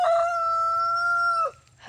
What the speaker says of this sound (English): a very happy rooster